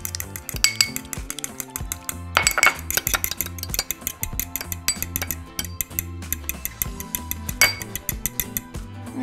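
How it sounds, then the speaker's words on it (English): An egg is whisked in a bowl for Mexican buñuelo batter, giving fast, steady metallic clinks and scrapes that run continuously up close. "we're going to whisk our egg"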